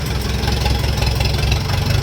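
An antique tractor engine idles loud and close, a steady low rumbling chug with a regular pulsing beat and no talking.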